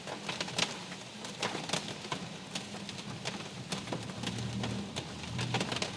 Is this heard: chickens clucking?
no